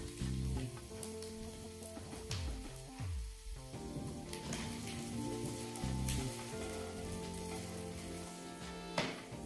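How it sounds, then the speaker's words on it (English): Asparagus and mushrooms sizzle and fry steadily in a hot pan, with a soft music bed playing underneath. "The asparagus have been frying for 5 minutes. Now it's time to add our mushrooms."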